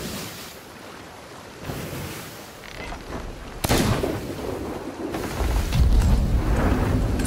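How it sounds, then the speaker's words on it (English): Ship cannons fire in the pirate video game Sea of Thieves over rolling ocean waves, with one sharp blast standing out midway and a heavier booming surge near the end. "Or you can shoot it with the cannons."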